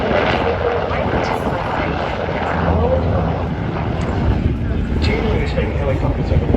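A Seahawk naval helicopter, a modified Black Hawk, flies at the Avalon International Airshow, a steady, loud rotor and engine roar with a broad rumble that holds throughout while a commentator talks over it.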